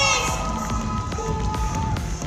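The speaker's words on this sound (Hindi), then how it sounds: "पूरे ऑडिटोरियम में तालियों की गूंज सुनाई देने लगी।" Auditorium crowd at the Miss Teen Rajasthan 2026 finale in Jaipur's Anant Mahal, reacting to the winner announcement with a dense, steady wash of clapping and cheering throughout, some voices rising above the noise.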